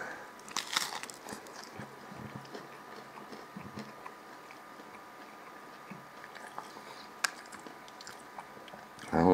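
Crisp bites and crunchy chewing of a Taco Bell Cool Ranch Doritos Locos taco shell, close and fairly quiet, with a few sharp cracks spread over a soft background.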